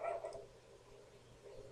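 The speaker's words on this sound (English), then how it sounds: "Lafayette, it's okay, pup." A dog gives a short bark or yip near the start, with brief noises after it against a quiet indoor background.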